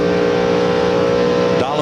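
Onboard a Chevrolet NASCAR Winston Cup stock car at the 1999 Primestar 500, a loud steady engine drone holds throughout, with a brief shift in pitch near the end.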